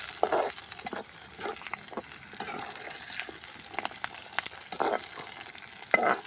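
Green chilies, garlic, shallots and ginger sauté in a pan over a village cooking fire, a continuous close sizzle punctuated by repeated scraping stirs.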